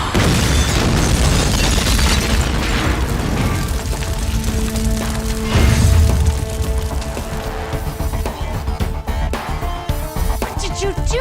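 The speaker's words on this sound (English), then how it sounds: "I'm only shooting the tires." Gunshots are fired at the tires of a car in a dramatic action scene, with loud booming cracks over dense, busy noise that fades into a sustained tonal backdrop. The shots are close and forceful.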